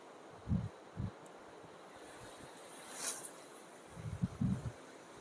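Strong, gusty windstorm wind in an outdoor spot near coconut trees before heavy rain, heard as soft intermittent low buffeting thumps against the microphone over a quiet hiss.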